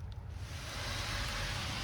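Steady rain falling outdoors, a dense even hiss of drops that holds at moderate loudness throughout, with no voices and nothing else standing out over it.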